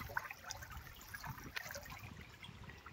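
Clear stream water in rural Konkan flows in a soft continuous trickle and gurgle, faint and steady, with small bubbling splashes throughout.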